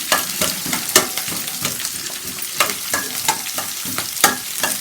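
Chopped onions sizzle in a hot pan for mutton chukka while a spoon scrapes and stirs them in sharp, repeated strokes, close and fairly loud over a steady crackle.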